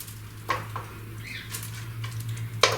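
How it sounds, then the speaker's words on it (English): A spatula scrapes and knocks against a bowl while pistachios and chocolate are mixed into green cookie dough, giving a few close, sharp clatters over a steady low hum. "I'm going to take my spatula and get this all mixed in"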